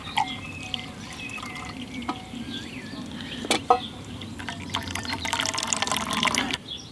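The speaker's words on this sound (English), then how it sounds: "Just put it over the top of your cup and strain the drink through it." Nettle tea poured through a bandana strainer into a cup outdoors, close trickling and dripping that starts as scattered drips and builds into a fuller steady stream of liquid, with faint bird chirps in the background.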